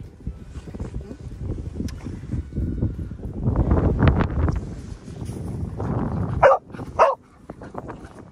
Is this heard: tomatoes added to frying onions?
no